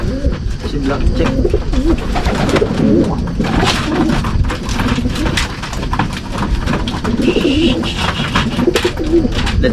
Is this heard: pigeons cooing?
yes